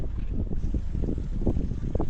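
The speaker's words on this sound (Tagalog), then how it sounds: "ang presko ng hangin dito" Strong wind roars across the microphone on a hilltop garden in Rodriguez, Rizal, in a constant low, blustery rush, close and loud, with no talking.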